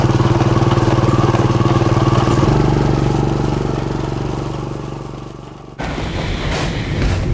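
A motorcycle engine runs close by, a loud steady drone that slowly fades over several seconds, then an abrupt cut to a brighter, clattering engine sound near the end.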